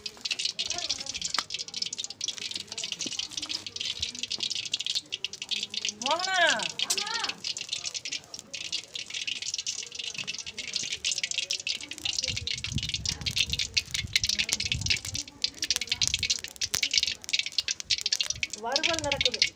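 Raw banana slices sizzle and crackle in hot oil in a village kitchen pan, a steady bright frying hiss throughout, with a person talking over it at times.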